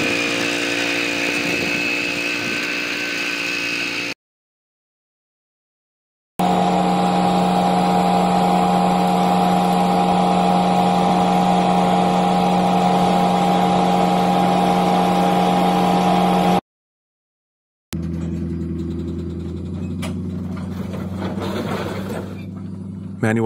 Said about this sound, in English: Let the engine do the sweeping.